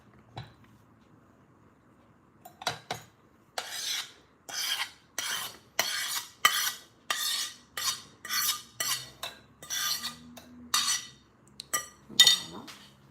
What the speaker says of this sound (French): je vais venir mettre les bananes